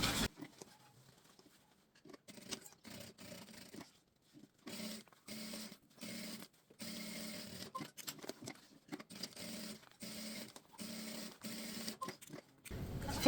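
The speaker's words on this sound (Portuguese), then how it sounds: "vou passar uma costura aqui dos dois lados para prender tecido de forro com a parte aqui do tecido principal" A sewing machine runs in short, repeated bursts with brief pauses between them while stitching a lining fabric to the main fabric of a mini shoulder bag. The whirring is close and clear, with no voices.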